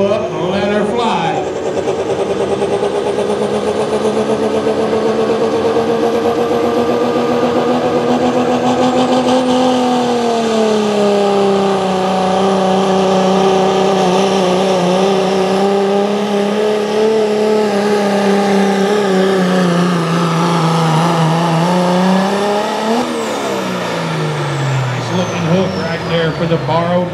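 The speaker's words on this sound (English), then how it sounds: "Bring up the boost, build the turbo up, and let her fly." Diesel 4x4 pulling truck at a Columbus, Texas truck pull, its engine revving loud and sustained with rising turbo boost and a steady droning pitch that climbs and falls, an announcer's voice running over it throughout.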